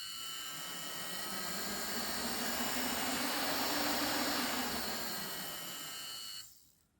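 A small nasal hair trimmer motor spins a fan on a homemade RC car, giving a steady, loud whirring drone with a slight rise and fall in pitch for about six seconds before cutting off abruptly.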